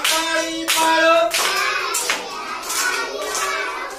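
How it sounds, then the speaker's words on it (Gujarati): Preschool children in a counting-song activity clap their hands in a few sharp, evenly spaced claps, close and clear, with children's singing voices running underneath. "ચાર કેતા તાળી પાડો"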